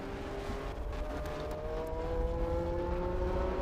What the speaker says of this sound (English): That Golf liveried Porsche that you just saw in front of Dawn